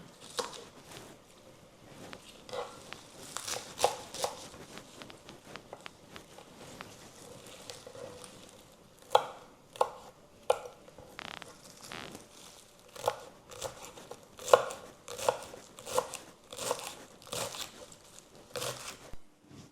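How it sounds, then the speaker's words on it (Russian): Quick, irregular knife chops and crunches of green onion and herbs being finely chopped on a cutting board, close and crisp, coming in bursts with short pauses. No talking. "вот эту красоту, нарезаем очень мелко"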